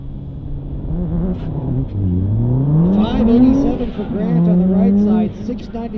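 Race cars, a Corvette and a Mazda RX-7 running Super Street Mod, rumble and rev at a drag strip start line, engine tones rising and falling steadily beneath continuous announcer talk.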